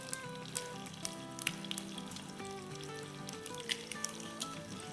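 Garlic and dried round red chillies frying in a pan for an aloo sabzi, a steady soft sizzle with scattered small crackles and pops over faint background music.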